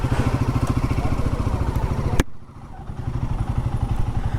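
A Royal Enfield Guerrilla 450 motorcycle idles close by in a steady pulsing rumble, then a sharp clack cuts in partway through and the engine note drops and softens before its rhythm returns.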